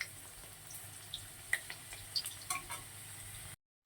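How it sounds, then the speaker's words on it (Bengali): Potatoes fry in oil in a pan, a quiet steady sizzle with scattered small pops and crackles, cutting to silence just before the end. "এপিট ওপিট করে আলুটা ভালো করে লাল লাল করে ভেজে নিয়ে তুলে নেবো।"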